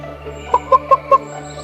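A fighting cock, a rooster kept for cockfighting, gives four short clucks in a quick regular series, close and clear over a low steady hum.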